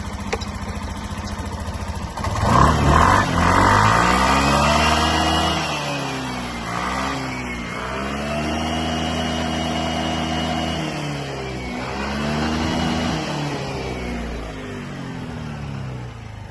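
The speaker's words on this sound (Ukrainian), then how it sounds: "гарно скутер працює, їде також" A Suzuki Address V125 S scooter engine sputters to life and runs steadily close by, its pitch rising and falling with a few revs before settling into a rough idle.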